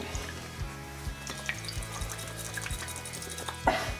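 A homemade liquid painting medium, milky to yogurt-thick, stirred in a container, giving soft wet swishing with a few light taps against the side and a louder knock at the end, no speech.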